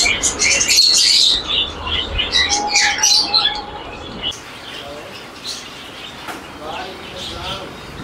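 Caged birds chirp and tweet at a bird market in Rahim Yar Khan, a lively cluster of calls loudest at first and then thinning, mixed with someone talking and general market noise.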